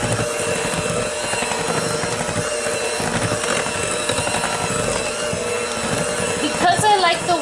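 A mixer whisks chocolate chip cookie dough in a bowl at a raised speed, giving a steady, close mechanical whirr with gear-like grinding throughout and a brief rattling clatter near the end.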